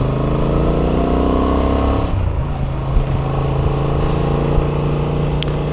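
A 2025 Honda Transalp 750 motorcycle engine hums steadily and loudly at close range, its tone shifting partway through as the revs change, with wind noise over the running engine.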